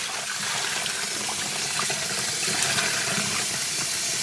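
Steady running water from a tap while dyed fabric is rinsed in a sink, a continuous even gush with small splashes and no pauses, fairly close.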